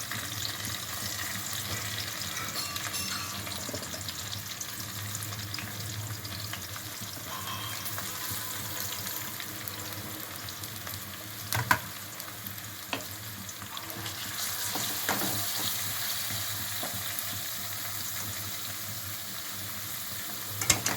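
Chopped onions frying in oil with cumin seeds, giving a dense, even hiss throughout, with a few sharp stirring knocks and scrapes near the end.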